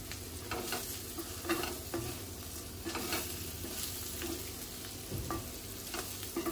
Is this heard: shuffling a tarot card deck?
no